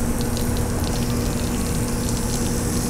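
Pink antifreeze runs steadily from the hot water tap of a trailer during winterization, a constant close, broadband rush of flowing liquid with a faint steady pump hum underneath, no voices.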